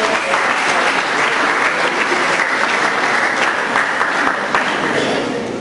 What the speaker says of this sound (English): Mr. Solushi, let us clap hands for